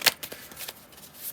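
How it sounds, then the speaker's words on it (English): Tarot cards are riffled and shuffled in a few quick, crisp bursts, close and fairly quiet, with no talking. "Sorry, the shuffling."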